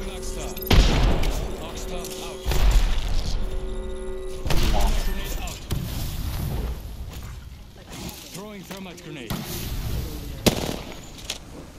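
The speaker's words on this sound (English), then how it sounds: "Throwing grenade." Video game battle where grenades burst amid bursts of gunfire, several loud booms and crackling shots spread across the stretch, with players talking over the combat throughout.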